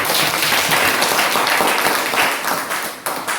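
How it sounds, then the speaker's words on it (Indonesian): Applause from students after a classroom presentation on linear equations, a brisk flurry of many hands clapping that stays strong and then thins into scattered claps toward the end. "Tepuk tangan buat mereka dulu ya."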